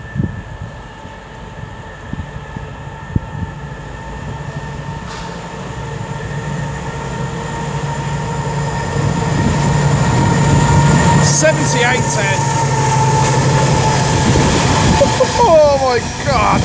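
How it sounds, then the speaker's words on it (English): A Colas Rail Class 70 diesel freight locomotive hauling an engineers' train through Oxford, a loud rumbling pass that builds to a roar with wheel squeal near the end, with voices talking over it. "Collis Rail Class 70, working 6 Mike 50 from Westbury Down TC to Bescott Up Engineers Sidings"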